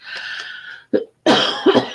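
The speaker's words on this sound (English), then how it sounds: "the cough is just irritating enough when I want to talk" A single person nearly over a head cold coughs a few times in quick, harsh bursts after a short breathy sound, close and fairly quiet.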